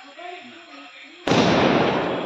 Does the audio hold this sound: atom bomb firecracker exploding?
yes